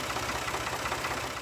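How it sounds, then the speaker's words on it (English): A tractor engine idles out in an orchard with a steady, low, throbbing chug that repeats in even pulses. It runs moderately loud and close, with no voices. "when Brady showed up with the tractor."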